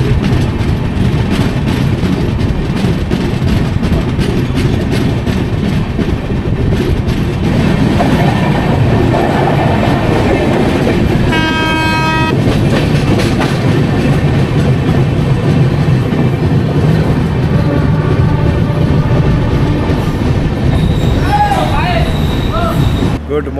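The Howrah–Puri Superfast Express 12837 runs at speed near Balasore, a loud, constant rumble of rail wheels with rhythmic clatter, a brief metallic squeal midway and occasional voices inside the coach.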